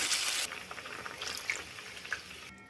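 Water poured into a pan of spiced potatoes and pointed gourd: a short hissing burst of about half a second, then soft, quiet sizzling and bubbling with a few faint clinks.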